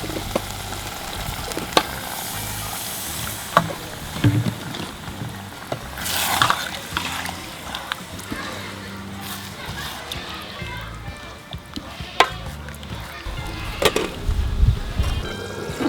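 Eggplant sauce sizzling and frying in a pan as a little soup is poured in, a steady low crackle with small stirring bumps under a voice talking throughout.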